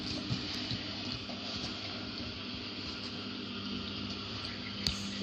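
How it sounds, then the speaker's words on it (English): Milk is poured into a small pint measuring jug in a home kitchen, producing a continuous, close, gentle liquid stream with one or two faint knocks. "Now we need half a pint of milk, so if you have a little pint jug, you need half a pint of milk."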